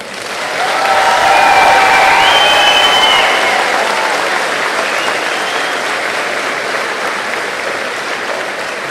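A graduation crowd at a high school commencement breaks into another round of applause, swelling quickly to a broad, full roar of clapping and then easing slowly while it fades out, with no talk over it.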